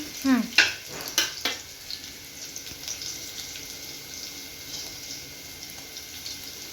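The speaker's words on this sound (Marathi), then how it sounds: "हे आता थोडंसं ब्राऊन होईपर्यंत त्याला असं हे तळून घ्यायचं" Cumin and green chillies frying in hot oil for beet leaf bhaji, opening with a few loud clattering stirs that give way to a steady, fainter sizzle close by.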